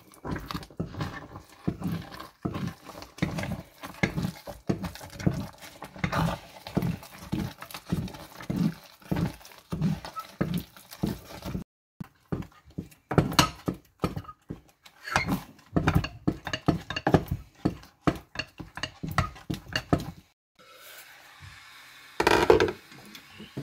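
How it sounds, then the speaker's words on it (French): Thick elastic cassava dough being stirred in a pot, a rapid series of rhythmic wooden knocks and thuds, irregular bursts with short pauses, close and fairly loud. "Je reviens encore remuer le cabato qui commence à être bien élastique"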